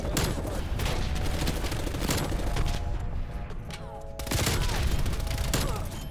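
Dense, continuous gunfire crackles with booming explosions mixed in, a chaotic barrage that barely lets up, in Call of Duty: Black Ops Cold War's Hardpoint mode on the Nuketown map.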